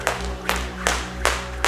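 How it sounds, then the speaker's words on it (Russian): Sharp hand claps during clap push-ups at a boxing endurance workout, five crisp claps in a steady rhythm about every 0.4 seconds, close and loud. "Сейчас хлопки делаются во время отжиманий"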